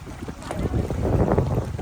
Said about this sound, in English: You guys can hear how windy it is.